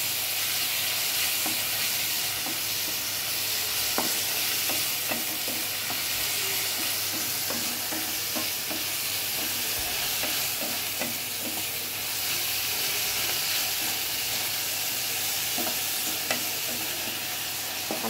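Small chopped tomatoes fry with frozen onions in a pan for beef kofta curry, a continuous close sizzle broken by frequent scraping and tapping of a stirring spoon.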